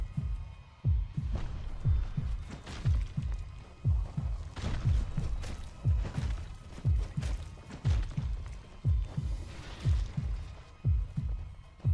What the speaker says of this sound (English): I'm glad I have to hear that heartbeat sound for next